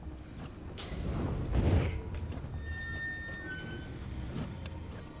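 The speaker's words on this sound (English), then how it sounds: "that damn train's gonna come out at me" In the video game Alien: Isolation, a train rumbles and rattles as it approaches, with a swelling mechanical surge, metallic creaks and a few high squeals, no voices over it.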